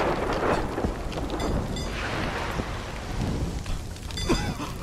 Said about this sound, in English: Storm's easing up a tad.